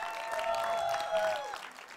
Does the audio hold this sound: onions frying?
no